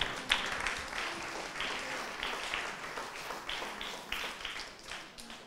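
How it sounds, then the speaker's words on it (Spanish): A church congregation applauds, a steady wash of many hands clapping at moderate distance, with brief louder swells and a faint voice underneath. "¿Cuántos aplauden el nombre del Señor?"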